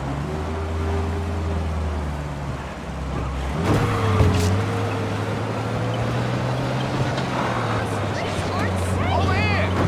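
A car speeds along in Mafia Definitive Edition, its engine a steady low drone with a pitch shift partway through, while people talk over the driving sound throughout.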